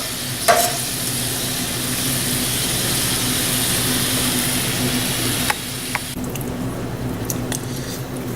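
Beef sizzles and fries steadily in a hot stir-fry pan, a loud continuous hiss with a couple of sharp clatters near the start and end.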